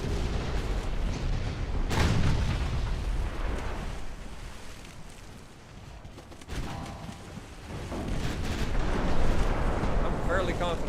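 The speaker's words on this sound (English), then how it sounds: "I'm fairly confident that was our own fucking ships blowing holes in us." Shells explode against a warship in the naval battle game Ultimate Admiral Dreadnoughts, with heavy booming blasts and rumbling detonations, a sharp crack near the start and a dense, continuous roar of battle throughout.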